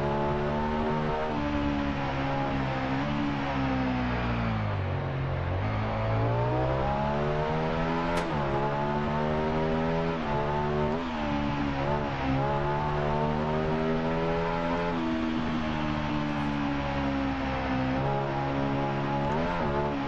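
Honda VTR SP1 2001 V-twin sport motorcycle in the racing game Ride 2, engine revving hard and continuously, pitch rising and falling through gear changes across the whole stretch, loud and close with no talk.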